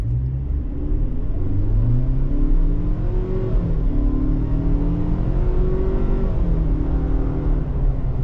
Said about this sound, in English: It kind of sounds like a 4-cylinder engine sounds.